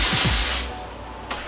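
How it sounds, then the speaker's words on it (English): Dry shampoo sprays from an aerosol can in one close, loud hissing burst lasting about half a second, then fades into quiet room tone. "let me spray some of the dry shampoo"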